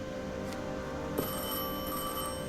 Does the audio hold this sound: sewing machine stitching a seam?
no